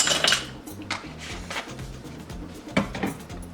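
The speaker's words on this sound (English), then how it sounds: "Give it a good stir." Corn salad with cucumbers, baby tomatoes, salt and white vinegar stirred in a bowl, a spoon scraping and clinking against the sides in steady, close strokes with a couple of sharper knocks, no talking.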